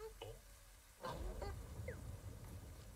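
Honking in the video game TOEM: short goose-like honk tones sound at several points across a quiet, low-level game backdrop, some brief and separated, one rising sweep near the middle.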